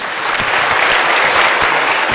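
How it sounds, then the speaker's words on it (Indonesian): Dense, loud crowd applause from an audience at a gathering at a university, a steady wash of many hands clapping close by without pause. "Tepuk tangan"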